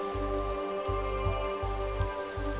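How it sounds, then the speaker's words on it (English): Rain falling in the Minecraft video game, a steady soft patter with repeating low rumbling pulses beneath it, no talking. "Rain is not going to impede our progress right here."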